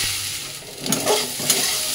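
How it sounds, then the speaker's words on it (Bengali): Cumin, chili powder, turmeric and other ingredients sauté in a pan with a constant close sizzle, broken by a few scraping stirs, and no voices. "এবার একসাথে সমস্ত কিছু কিন্তু কষিয়ে নেব।"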